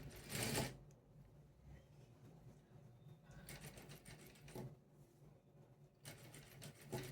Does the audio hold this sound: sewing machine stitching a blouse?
yes